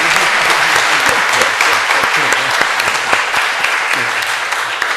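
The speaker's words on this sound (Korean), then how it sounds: "우리 끝까지 남아주신 우리 강사님들에게 다시 한번 감사의 박수 한번 드리겠습니다" Sustained audience applause at the 2016 Seoul Edwards Conference Q&A session, a dense, even clatter of many hands clapping continuously throughout, loud and close with no pause.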